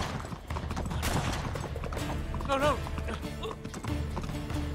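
A horse gallops in the video game Uncharted 3, with steady clip-clop hoofbeats running throughout, a brief whinny partway through and faint gunfire-like cracks in the mix.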